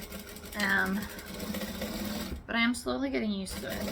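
A sewing machine stitching the edges of a fabric tote panel, a steady close whirring hum running under a voice speaking throughout.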